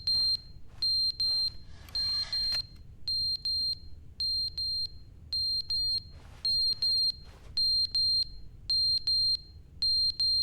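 A fire alarm sounding in a repeating pattern of sharp high electronic beeps in pairs and triplets, loud and steady over a low background rumble.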